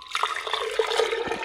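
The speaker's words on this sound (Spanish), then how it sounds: "a ver cómo sale el agua del pico" Water pours from a spout through a small wad of cotton batting used as a filter, a light splashing trickle with gurgles and drips, fairly close and alone.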